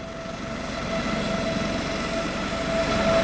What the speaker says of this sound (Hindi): हमने जैसे हेलीकॉप्टर को अभी ट्रायल लैंडिंग किया है